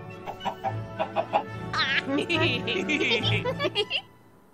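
A chicken clucks in a series of short rhythmic bursts, mixed with squawky, voice-like calls that may be someone imitating a hen, fairly close and moderately loud.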